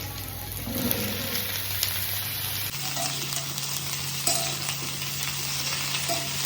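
Onion and vegetables sizzle and fry steadily in a pan, a continuous close hiss with occasional stirring scrapes, no voices.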